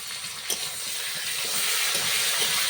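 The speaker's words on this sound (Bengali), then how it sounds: "লবণ হলুদের গুঁড়ি দিয়ে আমি ভালো করে আমটা ভেজে নেব" Mango pieces fry with salt and turmeric in a kadai, making a continuous, moderately loud sizzle that swells slightly toward the end, with no voices.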